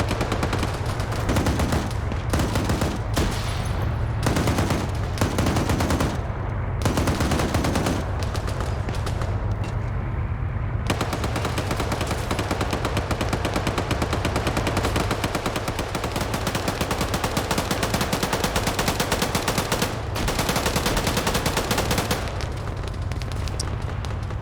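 Dense bursts of automatic and single-shot rifle fire from a military shooter game PvP match, Lithuania versus Poland, crackling loudly and almost continuously with short gaps, the shots overlapping into rapid volleys throughout.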